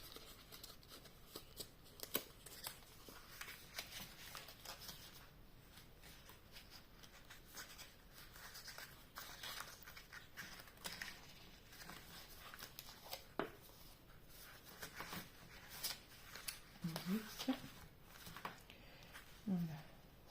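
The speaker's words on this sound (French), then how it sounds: "Je vais couper comme ça." Scissors cut paper for a handmade scrapbook card, a string of faint snips and rustles spread across the stretch, close but quiet, with soft speech in the background.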